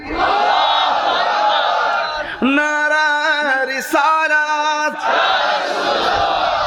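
A crowd at a Bengali religious gathering shouts back a chant in unison, a loud massed roar of voices with a sustained, harmonically rich middle section, then breaking back into general crowd noise.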